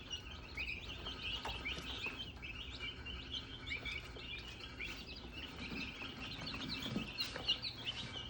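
Meat bird chicks and young turkeys chirping steadily in a brooder, a dense chorus of high peeps with occasional clucks, moderately close and without talking.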